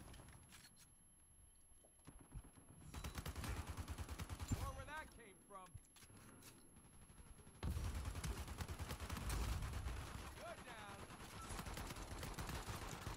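Bursts of automatic rifle fire in an Uncharted 4 multiplayer match, rapid repeated shots in loud stretches with game sound effects layered over them, continuing throughout.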